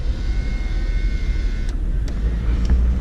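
Jeep Cherokee on a test drive, a steady low engine and road rumble heard from inside the cabin, loud and continuous with a few faint clicks over it.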